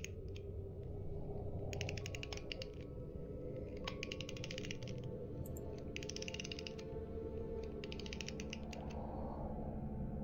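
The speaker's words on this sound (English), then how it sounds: "Sounds of cranking." A mechanism is wound by hand, producing repeated bursts of ratcheting clicks and creaks in a regular cranking rhythm, close and fairly quiet over a low background hum.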